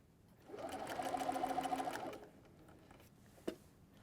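A sewing machine stitches an X across a throw blanket, giving a quick run of rapid, even needle clatter for about a second and a half, close and clear, then a single small click afterward.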